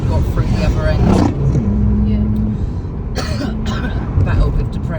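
A person coughs and clears dust from the throat, a couple of rough bursts near the mic, heard over steady passing car and road noise outdoors.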